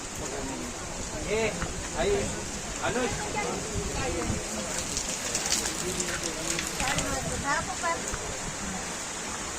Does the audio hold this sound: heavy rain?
yes